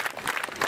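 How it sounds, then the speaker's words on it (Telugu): Government degree college NSS students clap together in a short burst of dense, close applause, the claps pulsing unevenly for under a second. "ప్రభుత్వ డిగ్రీ కళాశాల NSS students please clap with NSS"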